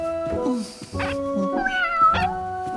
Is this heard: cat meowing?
yes